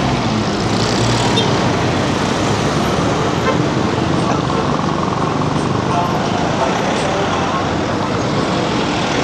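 A jeepney rolls through a busy Cebu City intersection amid dense, steady roadway traffic rumble, with a short horn toot near the start and a continuous wash of engines and passing vehicles throughout.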